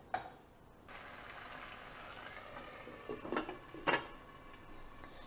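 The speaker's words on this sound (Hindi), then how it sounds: "अब हम स्लो पे इसको थोड़ा पकाएंगे जिससे टमाटो और आलू एकदम" Potatoes and tomatoes for aloo tamatar sabji cook slowly in a pan, a steady soft sizzle with a few scraping stirs near the end, fairly quiet and without talk.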